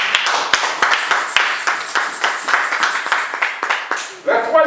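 A church congregation claps together in praise at a steady, rhythmic beat, close and lively, before a voice speaks up at the end.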